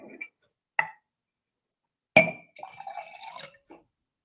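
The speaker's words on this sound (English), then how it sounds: "Then you want to add in 3/4 of a cup of water." Water poured from a measuring cup into glue for a craft experiment, a few short trickles and splashes with a clink of glass, then a longer pour that fades out, close up and with no talking.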